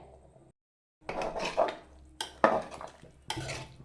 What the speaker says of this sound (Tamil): இப்போது மிக்ஸி ஜாரை வந்து கழுவி நான் இதில் சேர்த்துக்கிறேன்.